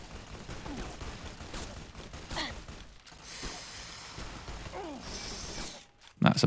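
Varmint rifle fire in the video game Fallout New Vegas, a few sharp shots over busy game sound and talking, with a loud close burst at the very end.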